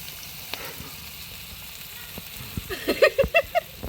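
Vegetables (potato, eggplant, greens) frying in a pan: a soft, low sizzle throughout, then louder crackling pops and spatters cluster in the last second, with no voices.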